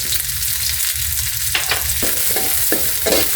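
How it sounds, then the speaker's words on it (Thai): Pounded dried and fresh red chilies with Thai garlic fry in hot oil, a steady loud sizzle with intermittent scraping stirs and clinks of a utensil against the pan, close and continuous. "น้ำมันร้อนก็ ใส่พริกลงไปครับ"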